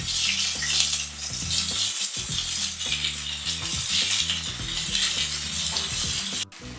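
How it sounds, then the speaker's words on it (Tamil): Onions fry in a pan with green chilli, curry leaves, ginger and chana dal for potato masala, making a loud, close, continuous sizzle with stirring scrapes and a background tune, then a sudden stop near the end. "இந்த அளவுக்கு வெங்காயம் வதங்கினா போதும்"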